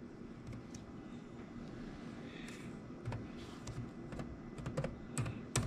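Rapid, uneven clicks of a computer keyboard being typed on while text is entered in a video editor, close and fairly faint over a steady room hum, with a slightly louder burst near the end.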